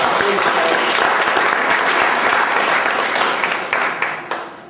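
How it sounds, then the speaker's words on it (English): An audience at a pain-relief exercise workshop breaks into sustained, dense applause, steady and fairly loud throughout before thinning slightly near the end. "Give Sean a round of applause."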